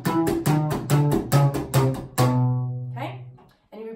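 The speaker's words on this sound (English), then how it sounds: "When you add the slap to it, the slap we're using, it's not a swinging slap, it is a straight slap." Straight, unswung slapped double bass playing a riff: a series of punchy, evenly spaced plucked notes with percussive slaps, ending on a long ringing low note, close and clear, with a faint brief sound after it.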